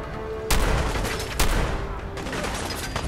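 Gunfire in the video game Fallout 4: loud, dense bursts of shots rolling into a sustained barrage with sharp onsets, close and heavy, over a rumbling low end.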